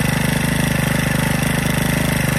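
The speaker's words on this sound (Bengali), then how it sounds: "এই মেশিনটা দিয়ে যখন চাষ করা হয় তখন এত শব্দ হয়" A tilling machine's engine idling while warming up after sitting unused, a loud, close, steady chugging drone with a fast even pulse throughout, no voices.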